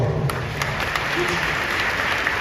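Audience applause fills a large event hall at a motivational talk, a steady dense wash of clapping from a big crowd, loud and continuous with no break throughout.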